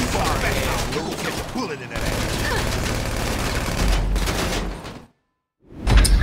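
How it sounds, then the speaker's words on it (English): Rapid bursts of gunfire from the video game GTA Online crackle loudly and almost continuously, then cut out briefly before another burst. "I kept getting shot at."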